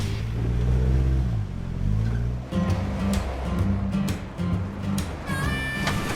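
A Nissan GU Patrol 4WD fitted with a Roothy Systems chip and exhaust climbs offroad, its loud, deep engine note surging in repeated revving bursts with clattering and scraping, no talking.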